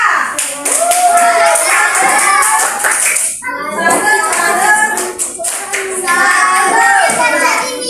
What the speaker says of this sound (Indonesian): Oke, tepuk salut untuk kelompok 3.